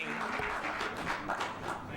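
Applause fills the room at a school board of education meeting, a steady, moderate wash of clapping from the audience lasting the whole moment, with voices faintly mixed in.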